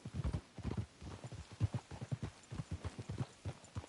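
Horse hooves clip-clop in a quick, steady rhythm, moderately close, with no talking, in the video game Red Dead Redemption.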